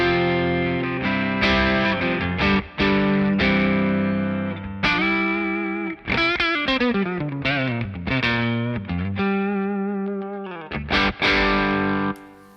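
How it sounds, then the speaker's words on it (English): A Stratocaster electric guitar played straight into a Kraken distortion pedal, heavily saturated chords and bends ringing out loud and close, with short gaps between phrases and no talking. "this is the sound of the Strat straight into the Kraken."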